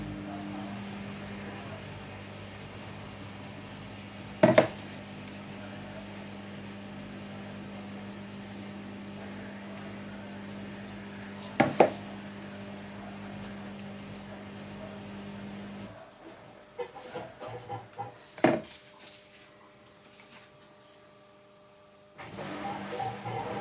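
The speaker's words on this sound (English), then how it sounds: "I've now got a washing machine in here, so that's what you can hear in the background." A domestic washing machine runs in the background, giving off a steady low hum and faint tonal whine broken by a few sharp clunks. About two-thirds of the way through, the drone cuts out and leaves quieter, uneven mechanical noise.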